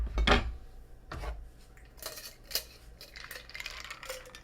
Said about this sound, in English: Ice already in the shaker. Let's just go ahead and give this a stir.